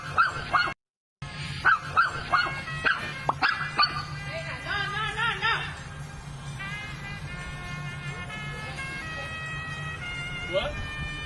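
A dog barks in sharp repeated bursts over the first few seconds, fairly close, while an emergency siren wails steadily through the rest; a tense voice is heard shouting at the dog's owner.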